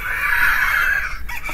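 A rooster-crow alarm clock sound: a loud, sustained crow, steady and piercing for about a second before breaking off into a few rough, fading notes.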